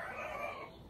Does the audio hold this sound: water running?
no